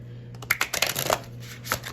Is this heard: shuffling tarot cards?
yes